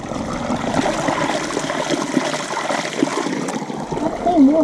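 Water draining from an old mine at the abandoned entry to the Monkton Farleigh underground ammunition store, a steady trickling and splashing flow that rushes on without a break through the whole stretch.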